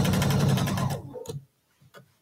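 A sewing machine stitches a quilt block seam at a slow pace, loud and close with a steady whirring run for about a second, then stops and leaves a few faint ticks and clicks.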